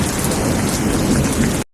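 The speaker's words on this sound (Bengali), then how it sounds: "এক বছর বর্ষাকালে প্রচুর বৃষ্টি হল।" Heavy rain with rolling thunder, a dense, loud, continuous downpour with deep rumbling underneath that holds steady and then cuts off abruptly.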